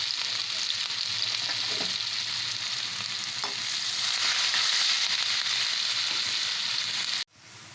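Sliced onions and green chillies frying in butter in a pan while cooking a chicken fry for broth, a steady loud sizzle with occasional stirring scrapes, close up, ending in a sudden cut.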